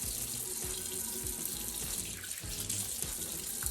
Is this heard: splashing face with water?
yes